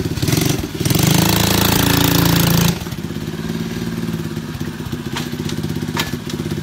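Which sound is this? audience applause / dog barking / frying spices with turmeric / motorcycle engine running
motorcycle engine running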